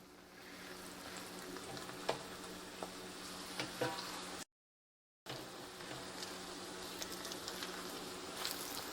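Crispy chicken ranch tacos fry in oil, giving a steady quiet sizzle with occasional small pops and taps as they are flipped; a short dead-silent gap interrupts midway, and no one speaks.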